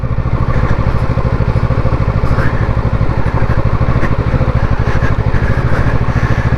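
A Kawasaki motorcycle grinds slowly up a steep mountain road in first gear, its loud, steady engine thrumming close by with a rapid low pulse and no voices.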